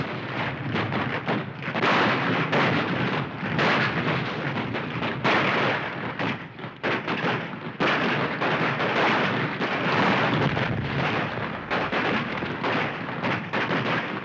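A sustained volley of gunfire and battle noise from a Civil War film, loud dense cracks and booms rolling continuously with dips between bursts, no voices clearly standing out.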